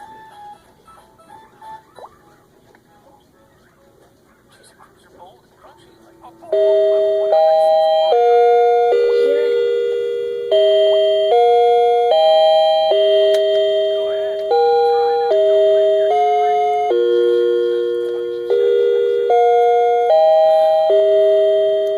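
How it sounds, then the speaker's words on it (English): After a quiet stretch with faint handling noise, an anniversary clock chime plays a repeating melodic sequence of clear, bell-like tones, loud and close, each note ringing and decaying. "Listen, this one is a late one, but it chimes."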